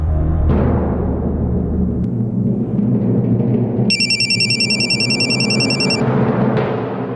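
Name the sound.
phone ringing during call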